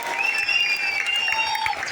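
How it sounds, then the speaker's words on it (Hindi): A large audience at a stage event claps steadily and continuously, with shrill whistles ringing over the applause throughout. "जो लोग सीटी बजा रहे हैं, ताली बजा रहे हैं"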